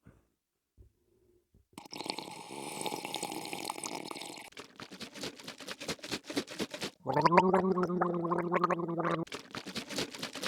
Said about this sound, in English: you're gonna want to gargle